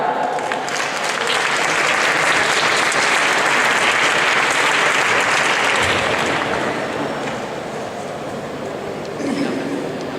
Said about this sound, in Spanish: con un fuerte aplauso recibimos a Irene Milleiro y a Luis Mora